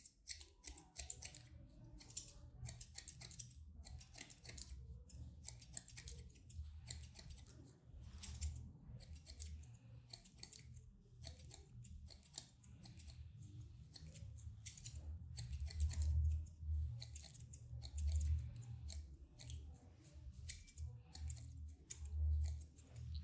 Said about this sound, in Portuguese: se você perceber que tem uma marca, você vem com a tesoura dentada em cima